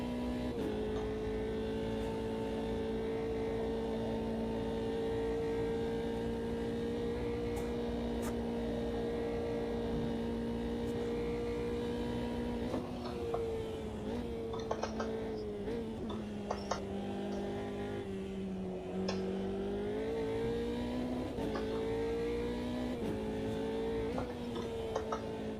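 A Formula 3 race car engine at Bathurst in Automobilista 2 drones steadily with a strong harmonic hum, pitch sagging and rising as the driver lifts and reapplies throttle through corners, with no talk.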